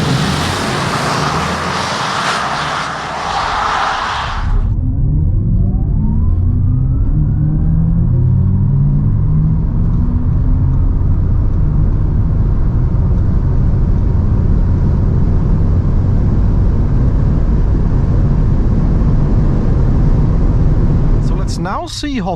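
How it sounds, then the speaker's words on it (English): Audi RS e-tron GT electric car with about 650 HP accelerating hard from 100 to 200 km/h on the open Autobahn, a loud steady cabin rumble of road and wind noise with a rising whine, following a brief burst of broadband noise at the start. "Now see how fast the RS e-tron GT goes 100 to 200 on the open Autobahn"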